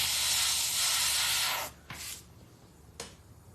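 An airbrush sprays paint in a loud, continuous hiss that cuts off abruptly, followed by two short, sharp bursts of spray.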